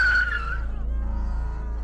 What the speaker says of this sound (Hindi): इस चीख पुकार के बीच विशाल की गाड़ी तेजी से अशोक वृक्ष के पास आकर रुकी।